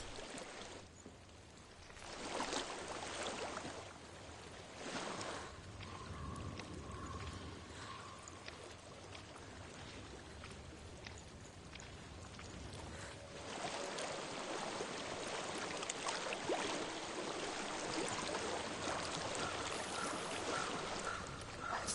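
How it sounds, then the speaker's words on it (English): A stream of flowing water runs steadily at moderate distance, a continuous soft rushing wash with slight surges over about twenty seconds, with no voices. "I hear water."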